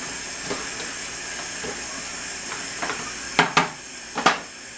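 A redneck nachos mixture cooks in a small skillet with a steady hiss and sizzle, broken by a few sharp clanks of a utensil against the pan near the end, close by with no talk.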